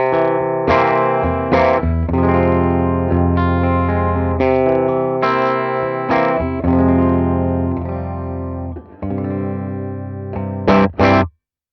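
Electric guitar with the bridge pickup through a Morgan SW50R amp, volume at noon and other controls neutral, rings out sustained strummed chords with mild overdriven breakup, ending in a few short choppy stabs before cutting off.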